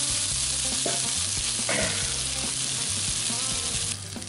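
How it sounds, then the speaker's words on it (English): Potatoes browning in a Dutch oven for smoked clam chowder give a steady, close sizzle with occasional stirring scrapes, continuous and without talk. "Go ahead and put in our potatoes."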